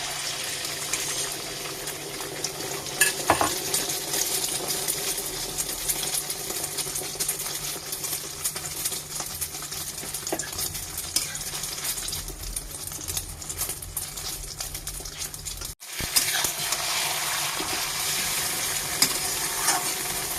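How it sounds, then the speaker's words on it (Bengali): Beaten egg frying into an omelette in a home kitchen pan, a steady low sizzle running throughout with faint scraping and clinks, a brief dropout near the end before the frying resumes. "এখন গোলানো ডিমটা ঢেলে দিচ্ছি।"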